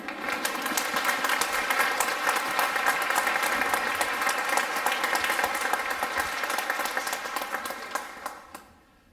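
A church congregation at a Mother's Day service breaks into sustained, dense applause of many hands, steady and full throughout before tapering off at the very end.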